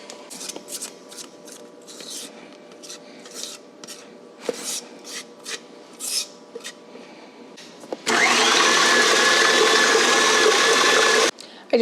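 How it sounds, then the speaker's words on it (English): KitchenAid stand mixer whisking batter, starting abruptly after scattered scraping and rustling, then running as a loud, dense, steady whir for several seconds before cutting off. "I'm gonna transfer this to my mixer, and we're gonna whisk it in here so that it can get nice and fluffed up"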